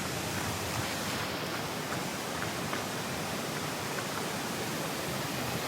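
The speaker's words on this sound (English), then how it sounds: "We finally arrived to the waterfall." A waterfall along a forest trail sends out a constant broadband roar, steady and fairly distant, with no voices over it.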